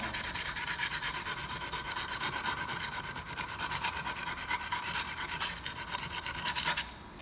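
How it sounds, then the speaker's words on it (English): Steady, rapid rasping strokes as the blade of a BTB scraper tool is sharpened, a close, continuous abrasive scraping that runs for several seconds before stopping abruptly. "That's where I'm sharpening right now."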